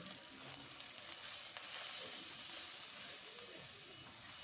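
Spices with salt and chili powder frying in a pan for a beef curry, giving a continuous, even hiss of sizzling oil with faint stirring underneath.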